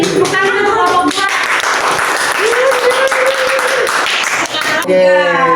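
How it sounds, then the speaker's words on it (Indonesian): Applause for a student group in a classroom microteaching session, steady clapping from a crowd with voices and a sustained tone mixed in, fairly loud throughout. "Tepuk tangan untuk kelompok 2"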